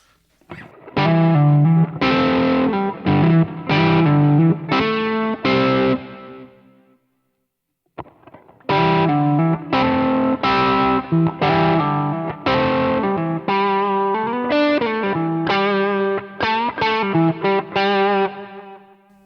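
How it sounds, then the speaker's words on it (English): An electric guitar through a Tube Screamer overdrive pedal plays chord phrases with a warm overdriven tone, pauses briefly, then continues with a longer run of sustained, gritty chords. "Here is the tube screamer now."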